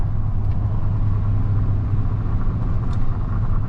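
An ATV rolls through a small Nova Scotia town with a loud, steady engine rumble and road noise that holds without a break from start to finish.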